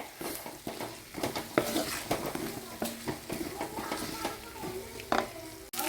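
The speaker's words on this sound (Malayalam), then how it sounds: "തക്കാളി ഇട്ട് കൊടുക്കുക ഇത് കുറച്ച് നേരം ഒന്ന് വഴരട്ടെ" Tomatoes sautéing in a pan for beef curry, a low sizzle under frequent scraping and clattering of a spoon stirring against the pan, fairly close, with one sudden cut near the end.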